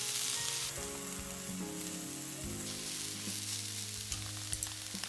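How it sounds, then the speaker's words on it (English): Japanese leek and burdock stir-frying in a pan for sukiyaki, a loud, dense, continuous sizzle heard up close with light stirring, no voices. "I add the burdock and stir fry it to add the roast flavor"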